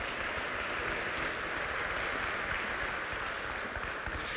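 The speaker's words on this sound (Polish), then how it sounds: "Brawa!" Steady audience applause at an award ceremony for laureates, dense continuous clapping from a seated crowd, moderately distant and even throughout.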